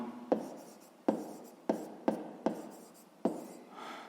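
Pen strokes writing out a sixth-grade math solution by hand on paper: six sharp, scratchy strokes at uneven intervals, each fading quickly, close and fairly quiet with no talk.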